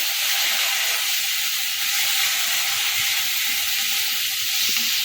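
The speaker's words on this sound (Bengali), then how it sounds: "অল্প একটুখানি জল দেবো নাহলে মশলাটা কিন্তু পুড়ে যাবে দিয়ে ভালো করে কষিয়ে নেব" Spice masala for a dhaba-style egg tadka sizzles steadily in a hot pan after a little water and salt go in, a continuous close hiss with no breaks.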